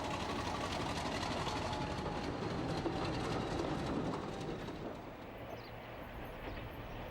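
A classic British diesel locomotive runs along the line, giving a continuous dense rumble and clatter of engine and wheels that stays loud, then eases slightly toward the end, with no voices.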